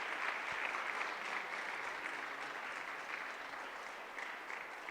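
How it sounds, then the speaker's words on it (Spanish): A church congregation applauds steadily, a dense wash of clapping that holds at an even level and fades slightly toward the end. "¿Por qué no le das un aplauso y vamos a..."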